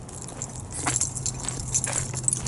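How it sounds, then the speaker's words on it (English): A bunch of keys jangles softly as it is pulled out, with scattered light metallic clinks over a low hum of a nearby car. "let me get the keys out"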